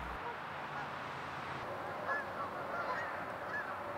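Geese at Morris Prong in Wicomico County give scattered honks over a steady outdoor hiss, the calls faint and somewhat distant, with no talk.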